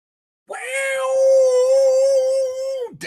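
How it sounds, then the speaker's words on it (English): A cat gives one long, clear, sustained meow lasting over two seconds, close and loud, ending in a brief downward squeak, with no talking. "we got a new wrestling fan here, my new co-host, Momo the Cat"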